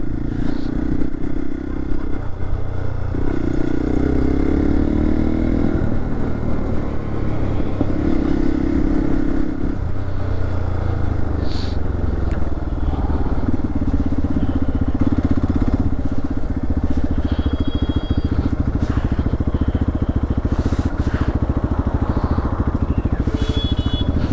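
A motorcycle ridden through traffic, a loud continuous engine drone with shifting tone and rattling clatter, close and steady throughout without talk.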